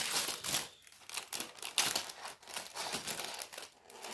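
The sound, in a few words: crinkling paper bags of Lego pieces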